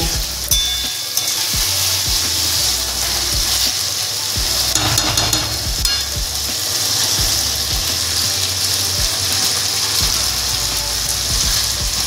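Bottle gourd tipped into hot spiced oil, sizzling steadily and loudly for the full stretch, with repeated scraping and clinking stir strokes from a spatula against the pan and no voices.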